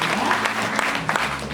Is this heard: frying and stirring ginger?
no